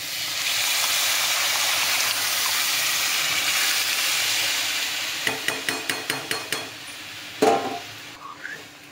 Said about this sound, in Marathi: आता हे मिक्स केलेली भाजी आपण त्याच्यात ओतून घेऊ.